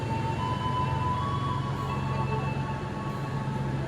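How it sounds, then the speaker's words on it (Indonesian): A train runs along the Bandung–Padalarang railway line, making a steady, unbroken rumble with a faint whining hum through the whole stretch and no voices. "Kereta yang paling diprioritaskan di jalur Bandung Padalarang."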